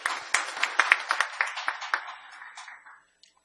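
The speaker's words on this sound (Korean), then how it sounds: "큰 박수로 맞이해 주시면 고맙겠습니다." A conference audience breaks into applause for an introduced speaker, a burst of dense clapping in a hall that swells briefly, then thins out and fades within a few seconds.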